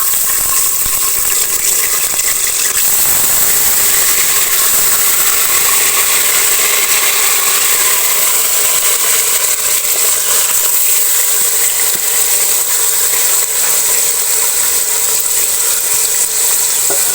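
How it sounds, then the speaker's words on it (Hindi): Marinated meat pieces for tikka boti fry in hot cooking oil, producing a loud, continuous, close sizzle and crackle that fills the whole stretch without any talking. "कुकिंग ऑयल मैंने गर्म कर लिया है। ये गोश्त को मैंने 3 घंटे मैरिनेट करके रखा था, अब शामिल कर लूँगी।"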